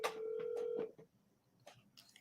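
A telephone call being dialed, with a steady two-tone keypad beep followed by a few shorter tones and a faint click, heard alone at moderate volume.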